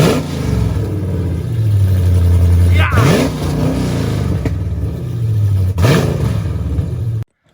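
A 2015 Dodge Charger with long tube headers and catless mid pipes revs hard several times, its loud, raspy exhaust rising and falling up close, with voices talking over the engine.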